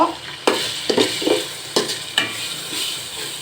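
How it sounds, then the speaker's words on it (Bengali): Spices for beef jhura (chili powder, ginger, turmeric and salt) are stirred in a hot pan, giving about seven distinct scraping strokes over a steady sizzle, close and fairly loud with no talking. "সব কিছু দিয়ে আমি একটু নেড়ে নিব"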